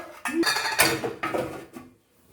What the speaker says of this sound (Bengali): কাঁকড়া দিয়ে এবার আমি ঢাকা দিয়ে দেবো